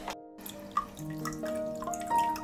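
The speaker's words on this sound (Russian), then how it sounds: "Такими действиями, которые я сейчас выполняю, это всего лишь навсего подмена воды" Aquarium water siphoned out of a round tank through a tube fitted with a syringe head: close, steady trickling with tonal gurgling whistles over a constant low hum, no voices.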